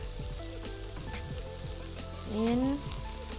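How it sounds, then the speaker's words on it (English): Garlic, chopped onion and chili paste fry in a pot for Thai nam prik ong, giving a steady close sizzle with some stirring and a brief tonal squeak near the end. "So we fried garlic, chopped onion, and chili paste"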